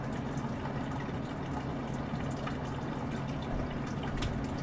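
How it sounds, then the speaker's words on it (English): A small waterfall trickling in a mossy tree frog terrarium, a soft continuous splashing and bubbling with faint drips, quiet and steady throughout. "That's why we have a waterfall going."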